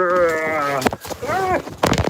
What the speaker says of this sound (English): Just giving some hay to the goats.